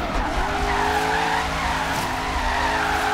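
In Forza Horizon 3, a Corvette drifts through a high-speed section, its tires squealing in a long, sustained wail over a steady engine roar, loud and continuous.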